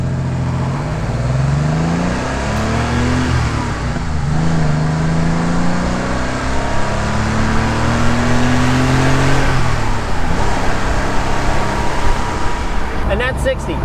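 Classic Porsche Targa accelerating hard to 60 mph, its engine note climbing through the gears in rising sweeps with brief dips at each shift, loud and close from inside the cabin.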